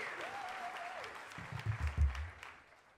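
An audience at a folk festival breaks into applause, clapping that builds to a burst of claps before fading, following a short stretch of a voice.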